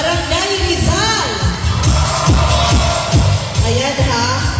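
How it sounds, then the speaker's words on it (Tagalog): A crowd cheering and shouting at the prize awarding of a summer basketball league victory party as barangays are called out, with an amplified announcer talking over the loud, sustained hollering. "Lakas ng hiyawan"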